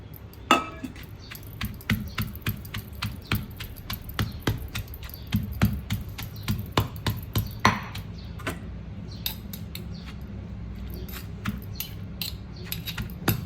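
Steady, rhythmic pounding of sliced kaffir lime in a mortar and pestle for chili paste, sharp knocks repeating quickly over a low background hum, slowing and thinning near the end.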